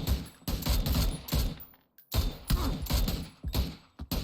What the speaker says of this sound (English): Somebody's shooting from southeast.